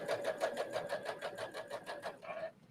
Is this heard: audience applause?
no